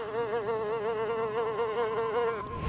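A cartoon flying insect buzzes loudly and continuously close by, a wavering high drone that cuts off abruptly at the end.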